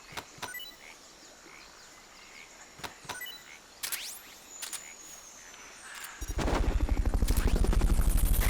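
A helicopter roars up during a Fulton recovery in Metal Gear Solid Peace Walker. It arrives loud and throbbing near the end, rising out of a game ambience scattered with sharp gunshot cracks and faint bird chirps.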